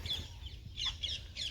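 Short high-pitched bird calls, likely a peacock, repeat four or five times in quick succession near a spot where birds are eating roti, over a low background rumble.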